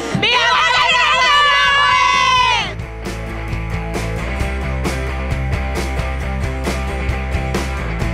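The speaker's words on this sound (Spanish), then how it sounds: "quiero oír el grito de ¡viva San Leonardo de Yagüe!" A crowd of young people at a village festival proclamation in San Leonardo de Yagüe, Soria, bursts into a loud, sustained shout of "viva" lasting about two seconds, then fades into babble and music.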